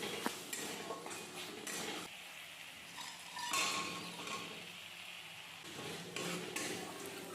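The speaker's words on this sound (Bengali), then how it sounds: "এবার আমি চিকেন পকোড়াটা দিয়ে দেব" Chicken pakoras are stirred into a simmering gravy in a pan, with soft sizzling, spoon scrapes and occasional metallic clinks against the pan, faint and close.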